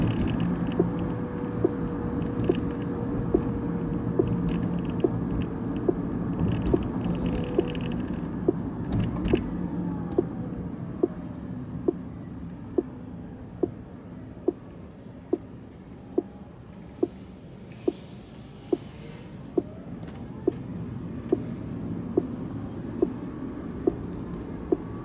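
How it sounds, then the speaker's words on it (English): A dual-motor Rivian R1T electric pickup cruises on a stormy day, its faint motor whine riding over low road rumble inside the cabin, with a steady rhythmic ticking throughout and no talking. "I can definitely hear the whine of the electric motor"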